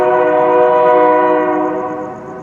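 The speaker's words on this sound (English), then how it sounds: "Yeah, train, keep interrupting me." A passing train sounds a loud, sustained horn nearby, a steady multi-tone blast that slowly fades over a couple of seconds with no speech over it.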